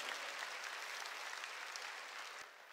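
Church congregation clapping together during a sermon, a continuous wash of hand claps heard at a distance and fairly faint, tapering off slightly near the end.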